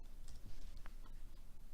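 Quick, light clicks of fingers typing on a computer keyboard, close and irregular, tapping out a short entry over a soft room hiss.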